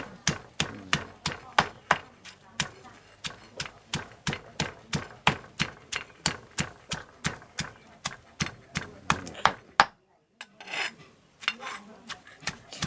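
Boiled beef is pounded for Thai-style dried roast beef, in steady, evenly spaced thuds about two or three per second, close and crisp, before a brief pause and a few more strikes.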